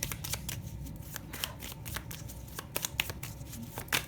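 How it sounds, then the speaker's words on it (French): Small French Lenormand cartomancy cards are shuffled by hand nearby, giving a steady run of quick, crisp riffling flicks and slaps with no talking. "Avec les cartes de la cartomancie française, Madame Lenormand, que j'aime beaucoup parce que les cartes sont petites."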